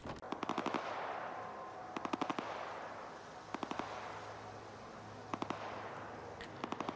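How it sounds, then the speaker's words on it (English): Distant automatic gunfire crackles in repeated short bursts during a firefight in the shooter game S.T.A.L.K.E.R. 2: Heart of Chornobyl, spread over a steady low ambient background. "there's a bit of a firefight over there and over there"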